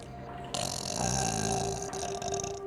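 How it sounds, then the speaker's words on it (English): A single drawn-out burp from a character in the fantasy video game Dread Delusion rumbles for about two seconds, close and fairly loud, over a faint game background tone. "I burped."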